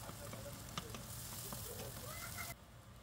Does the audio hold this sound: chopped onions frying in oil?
yes